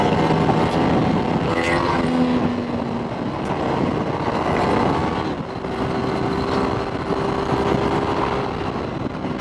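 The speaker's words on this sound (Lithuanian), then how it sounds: "kaip tas motociklas važiuoja" A Ducati 848 sport motorcycle's engine pulls under way, its tone rising and falling with throttle changes over continuous wind and road rush.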